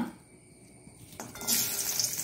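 Garlic dropped into hot oil in a pan for a snake gourd and jackfruit palya, starting quiet and then breaking into a bright, steady sizzle over the last second.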